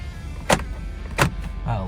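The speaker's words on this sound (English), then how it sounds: "the locks are nice and strong" Power door locks on a 2001 Lexus LX470 actuate with two sharp mechanical clunks about a second apart, close by, followed by a fainter whirring thud.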